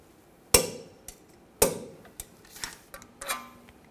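A torque wrench on the front suspension nut of a 2007-2013 BMW 328i gives two sharp, loud clicks about a second apart, followed by quieter metallic taps and clinks.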